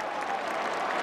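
Crowd at a 2016 Harvard vs Yale college football game roaring after a defensive play, a dense continuous wash of cheering and clapping, steady and fairly loud throughout the short moment.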